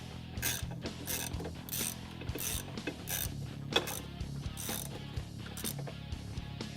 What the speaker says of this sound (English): starting with these two bolts here. It's also a 10mm socket.